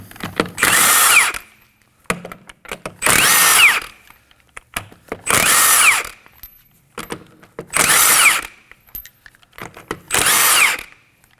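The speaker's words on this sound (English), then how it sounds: "Using a 21mm socket, go ahead and remove the lug nuts" A power tool with a 21mm socket spins lug nuts off a Kia Optima's rear wheel, five loud whirring bursts of about a second each, evenly spaced with quiet handling noises between, close to the mic.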